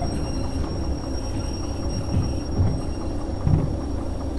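A locomotive in the train simulator Derail Valley idles with a low, steady rumbling drone and a few faint clunks, quiet and continuous with no talking.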